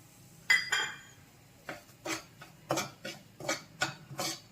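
Semolina roasting in ghee in a pan for pineapple ravva kesari, a series of distinct scraping strokes and metallic clinks of a spoon against the pan, close and evenly spaced, with no talking.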